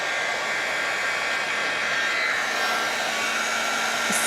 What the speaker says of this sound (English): put it on the low setting and just keep it moving because I don't want to remelt my embossing powder from earlier.